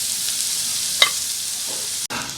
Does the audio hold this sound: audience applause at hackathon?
no